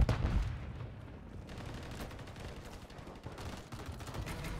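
Gunfire from a Renetti pistol in a competitive shooter match on a highrise map. A loud sharp shot opens the clip, then a busy spread of nearer and farther shots, with no talk.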